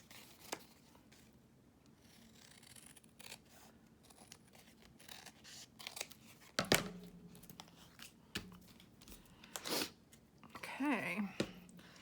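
Scissors trim excess paper while someone makes journal cards, envelopes and tuck spots, with a handful of quiet, irregular snips and faint paper rustling.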